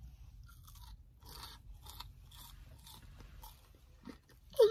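Close, quiet crunching and chewing of Burger King french fries comes in a steady rhythm of bites. A louder rustle or crunch lands at the very end, and no one speaks.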